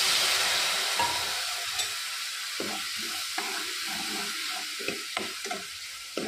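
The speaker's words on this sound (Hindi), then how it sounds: "इसको हम करेंगे अच्छे से फ्राई" Rajma masala fries in a pan with a splash of water, a steady bright sizzle broken by scraping stirs and small knocks of a spoon against the pan, close and alone.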